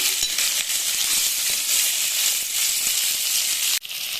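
Urad dal and chana dal frying in a pan, sizzling steadily with a faint scrape of stirring and a brief clink near the end.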